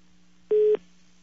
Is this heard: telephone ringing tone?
yes